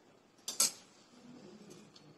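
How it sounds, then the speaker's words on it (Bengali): A metal mixing bowl is picked up and set down for a Turkish semolina dessert, giving two quick clinks close by, followed by a faint scrape and some soft kitchen rustling. "প্রথমে আমি একটা মিক্সিং বোল নিচ্ছি"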